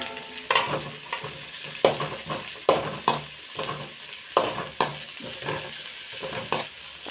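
Chopped onion and capsicum frying in three spoons of hot coconut oil for pasta, a soft steady sizzle punctuated by regular spatula scrapes and knocks against the pan, close up and without talk.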